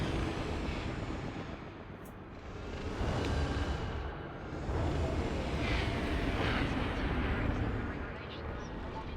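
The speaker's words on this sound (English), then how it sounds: "spin and drop our landing gear." An Imperial Courier ship in the Elite: Dangerous space game touches down on a landing pad, with a loud, steady roar of thrusters and low rumble that swells and dips, along with a few heavier thuds.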